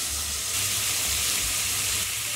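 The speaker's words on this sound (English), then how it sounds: "You want to make sure to hear that sizzle." A steady, bright sizzle of Thai beef skewers frying in hot oil, close and constant, with no voices.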